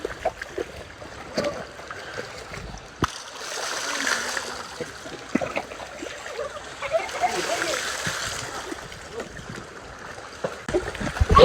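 Sea water splashing and sloshing as people bathe with children off a beach on Perhentian island, a steady broadband wash with scattered splashes and short voices and talk over it throughout.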